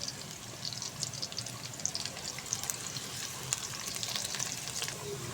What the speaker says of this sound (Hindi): अब देखिए खूबसूरत सा तड़का लगाने के लिए हमने प्याज भी डाल दिया इसके अंदर।